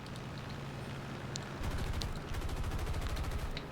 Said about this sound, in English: They can hear at some point some of the machine guns going off.